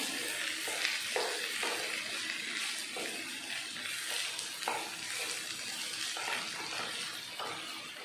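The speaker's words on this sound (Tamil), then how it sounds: "ஆயிலே ரெண்டு நிமிஷத்துக்கு நல்லா வதக்கிடலாம்" Food sautés in oil in a pan on a home kitchen stove, a steady close sizzle that runs unbroken for several seconds with faint clatter.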